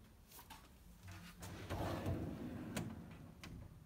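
Full-extension drawer of a Husky 52-inch industrial rolling steel tool chest sliding open or shut, a soft rolling rumble building over a few seconds with light clicks, close and moderately quiet, no talking.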